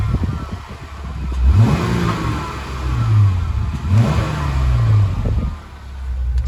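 A Jeep Wrangler Rubicon Recon with a black powder-coated dual exhaust is revved three times in quick succession. Each throttle blip climbs and falls over a steady rumbling idle, loud and close.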